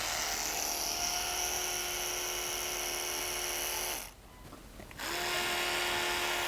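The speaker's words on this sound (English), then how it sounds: "I'm going to start with the electric toothbrush" An electric toothbrush buzzes steadily along the gums and under a fixed full-arch dental bridge, a close, continuous high whine that briefly cuts out and then resumes.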